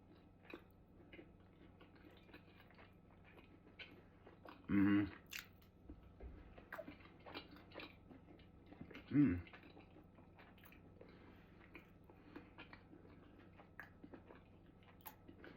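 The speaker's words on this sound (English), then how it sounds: "Let's go in for a taste test." Someone eats creamy kimchi pasta with bacon and green onion, with two soft, close bites or chews separated by a few seconds of quiet. The room is otherwise nearly silent.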